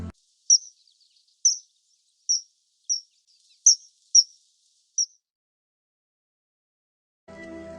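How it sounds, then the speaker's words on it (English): Seven short, sharp high-pitched call notes from a kingfisher, a small bird with blue and orange feathers and a long sharp beak, spaced about a second apart against near silence, followed by a brief low rumble at the end. "Let's listen the sound of a kingfisher."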